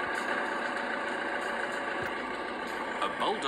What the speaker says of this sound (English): It's a bulldozer.